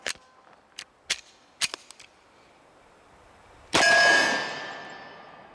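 Kahr CM45 pistol fired offhand: several sharp, fairly quiet cracks in irregular succession, then one much louder shot that rings and decays slowly.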